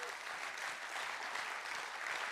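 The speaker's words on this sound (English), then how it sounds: "Give Connor a round of applause" Steady audience applause at a church service fills the whole stretch, an even wash of clapping hands heard fairly distantly without any talk.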